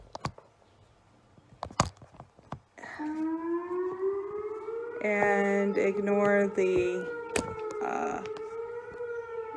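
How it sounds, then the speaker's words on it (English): A storm siren undergoing its weekly Tuesday test wails with a rising, sustained tone that swells louder partway through, while a person speaks briefly over it. "storm siren testing"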